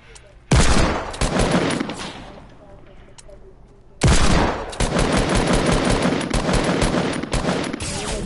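Loud automatic gunfire in Fortnite in two long sustained bursts, close and harsh, with a brief quieter gap between them where faint game sounds remain.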